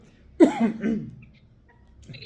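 A single sharp cough close by, followed by a short rasping throat sound, then near quiet with faint movement at the end.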